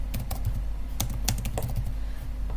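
Quick, light keystrokes on a computer keyboard, irregular clicks and a few louder key taps, close and fairly quiet, with no talking.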